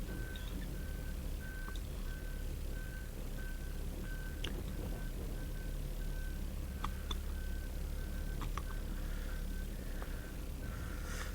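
A lorry reverses outside a workshop where an air suspension pump is being overhauled. Its reversing alarm gives a steady string of evenly spaced, moderately distant beeps over a constant low engine rumble, with occasional clinks close by.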